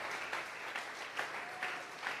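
Church congregation applauding during a Sunday service, a steady wash of clapping from many hands with a few louder swells, moderately distant and continuous throughout.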